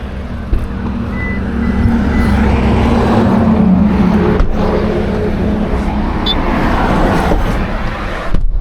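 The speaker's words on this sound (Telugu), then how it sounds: "సో మనం అయితే ఇప్పుడు డ్రైవింగ్కి వెళ్ళిపోతున్నాం" A car driving along a road on a trip from Vizag to Tekkali, a steady engine and road rumble heard from inside the vehicle, continuous and fairly loud with no talk.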